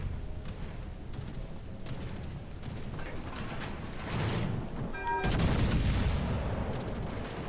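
Naval gunfire in World of Warships: Legends, a series of heavy booming shots with mechanical clatter, growing louder and denser toward the end, with no talk over it.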